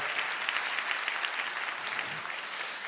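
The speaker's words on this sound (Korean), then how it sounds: "우리 한번 큰 박수로 환영해 주시면 감사하겠습니다." A church congregation in Ilsan, South Korea, claps to welcome visitors at a Friday prayer meeting, making steady, dense applause that fills the room without a break for the whole stretch.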